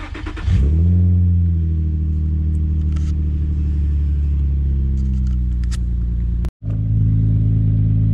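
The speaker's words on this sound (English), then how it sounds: "On camera, this might sound really raspy, but the Flowmaster gives it a really, really deep tone." A 2006 Infiniti G35 with its VQ V6 revs through a Flowmaster exhaust, one sharp blip that settles into a steady, deep, loud drone close by. A brief cutout comes near the end.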